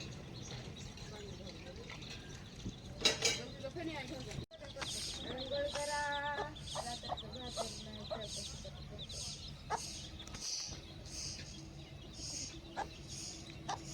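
A pure desi village hen clucks in short, quiet bursts among faint high chirps of chicks, with soft background noise throughout.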